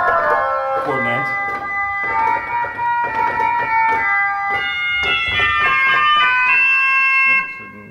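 Cornet stop sounding on the renovated Flaes pipe organ in Zonnemaire: sustained, bright chords stacked with sharp upper partials, shifting between held notes for about seven seconds, then fading at the end.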